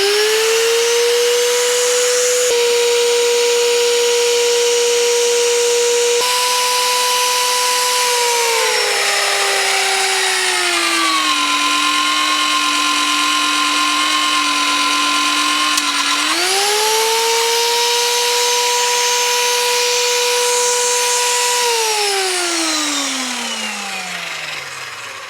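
An imported magnetic drill bores through a steel C-channel with roughly a quarter-inch wall, its motor whining steadily and shifting pitch downward as the cutter bites, then rising again before spinning down, loud and close throughout.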